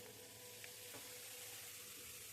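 Cumin seeds go into hot oil, where mustard seeds are already crackling, to temper a thin poha chiwda. They give a faint, steady sizzling hiss with a few tiny pops and no talking.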